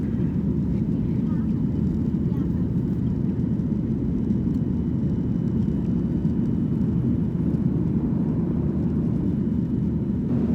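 A passenger airliner climbs above the clouds after takeoff from Sialkot, heard from inside the cabin as a steady, loud, broadband engine roar that stays even throughout, with someone talking over it.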